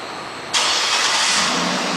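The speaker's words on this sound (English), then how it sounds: "and the car starts right up." A 2010 Cadillac Escalade ESV engine fires up by remote start, a sudden loud broadband roar of the engine catching after a quiet half second, then settling into a steady close idle.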